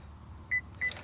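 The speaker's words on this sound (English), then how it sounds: "Beep beep." A 2017 Chevrolet Colorado gives two short, quiet electronic beeps about a third of a second apart while a key fob remote is being programmed.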